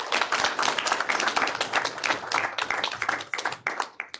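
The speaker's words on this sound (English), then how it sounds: "Big applause for Ruby Central, please." Audience applause at a Ruby programming meetup at Cisco Meraki headquarters in San Francisco: many hands clap briskly and fairly close, then thin into scattered claps as it fades.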